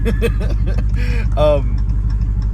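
A Hellcat-engined Chrysler 300 rumbles loudly inside a stripped-out cab with the headliner and pillars removed, idling as a deep, steady pulsing throb while a person talks over it.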